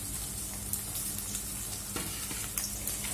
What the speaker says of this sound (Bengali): কাঁচা গন্ধটা যাওয়া পর্যন্ত একটু ভাজবো